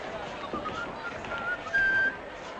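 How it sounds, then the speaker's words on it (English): A man whistles a tune in an old western saloon, thin melodic notes rising and sustaining over quiet room tone, with a faint murmur of talk in the background. "Don't whistle too hard, Jake."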